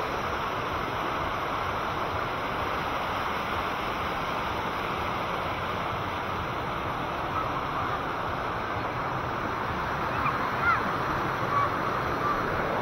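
Strong current of cold spring water flowing steadily at a Philippine spring resort, a dense continuous rushing wash close to the microphone with no pauses, carrying on alone without talk.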